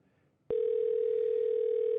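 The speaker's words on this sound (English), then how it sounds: "Come on, drummer boy, pick up your phone." A telephone line tone on a call placed to a drummer cuts in abruptly after a short quiet moment, then holds as one steady, loud, unbroken tone with no voices.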